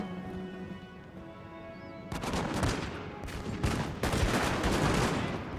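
Massed musket volleys crackle in the Napoleonic strategy game Napoleon Total War during a Prussian campaign battle, a dense rolling burst of shots starting after a couple of seconds of quieter battlefield ambience, with no talking.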